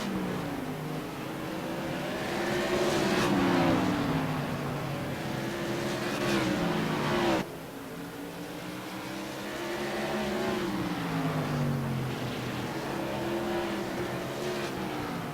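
Modified race cars roar around South Boston Speedway in close battle, engine notes rising and falling as cars pass and trail off, with a brief dip in level midway before the pack swells back, loud and continuous.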